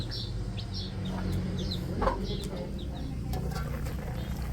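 Chicks peeping at a rural home in the province, a series of faint high chirps scattered over a steady low background rumble.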